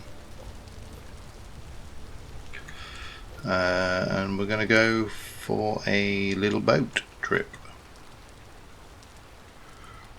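Steady rain falls in the survival game Vintage Story, a soft continuous hiss throughout, with someone talking over it for a few seconds midway.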